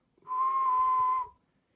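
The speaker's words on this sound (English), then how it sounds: "that's how you whistle" A person whistles one steady, clear tone for about a second, held evenly and close before stopping cleanly, with no talk over it.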